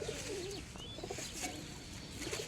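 Domestic homing pigeons cooing in a loft before release, soft repeated throaty coos from several birds close by, with faint chirps and a brief wing flutter behind them.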